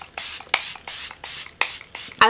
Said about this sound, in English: Now I'm going to take some setting spray just to melt this down.